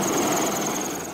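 A Chinese Navy helicopter flies roughly 50 feet overhead, its engine roar and rotor drone steady and loud, easing off slightly toward the end, with no voices.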